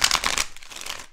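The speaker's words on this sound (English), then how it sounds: "let's do 4 major shuffles and pull the energy" A tarot deck gets a quick, close shuffle: a brief crisp riffle of cards flicking together, then a softer rustle as it settles.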